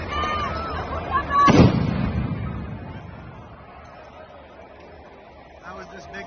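A single heavy explosion bursts during street riots in France, a loud boom with a rumbling tail that fades over several seconds, amid background crowd noise.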